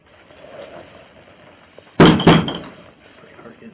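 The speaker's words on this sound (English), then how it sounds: "That's the door in the unit." A door inside a unit bangs twice in quick succession, loud and close, after a stretch of quiet room noise.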